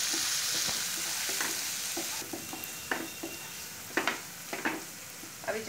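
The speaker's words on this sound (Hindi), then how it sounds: "हल्दी पाउडर, रेड चिली पाउडर और धनिया पाउडर ऐड करके अच्छी तरह से 2 मिनट फ्राई कर लूँगी" Turmeric, red chili and coriander powders fry in hot oil in a pan, giving a soft hiss with repeated scraping stirs of a spoon that grow more frequent toward the end, with no voices.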